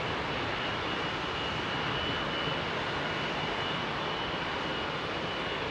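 A jet airliner engine runs up on the ground at London Heathrow, a steady, loud broadband roar with a faint high whine holding level throughout, no voices.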